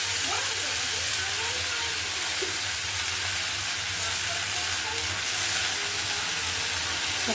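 Thankuni leaves fry in a pan with a loud, continuous sizzle and hiss close up, over a low steady hum.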